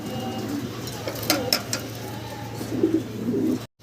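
Fancy Black Bombay pigeons coo softly in low, rolling murmurs, with a couple of sharp clicks, over a steady background hum; close and moderately quiet.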